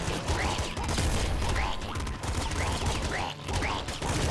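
Dense stream of bullets fired at the player in the Nuclear Throne video game, a loud, continuous rattling barrage with sharp crackling bursts throughout, with brief faint sweeping tones mixed in.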